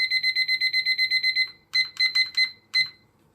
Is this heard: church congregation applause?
no